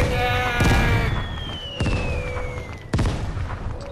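Mortar explosions in the video game Vigor, three heavy booms spaced about a second apart over a descending whistle and game tones, with a voice briefly heard.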